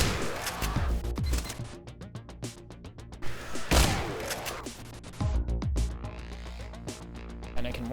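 Weapon fire in the video game Extraneum, a railgun-like gun: several sharp, loud shots with booming tails, with a couple of heavier blasts standing out among quicker bursts, and no voice heard.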